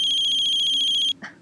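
A phone's electronic ringtone, a loud rapidly pulsing high trill lasting about a second before cutting off, followed by a brief faint voice.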